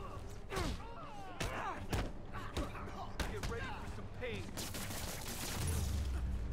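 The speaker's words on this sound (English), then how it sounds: "I'm getting shot up." Gunfire in the Marvel's Spider-Man video game, a string of sharp shots and thuds scattered through the scene, layered with whooshes, game effects and voices talking.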